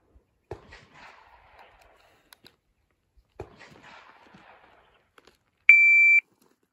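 Shot timer on a shooting range gives a single sharp, steady electronic beep near the end, preceded by a few faint footsteps and small rustles in an otherwise quiet setting.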